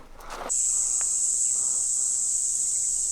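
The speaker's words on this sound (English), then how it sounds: "These cicadas are so loud." A loud, steady high-pitched drone from cicadas on a Mojave Desert trail starts abruptly and holds continuously, close and unbroken.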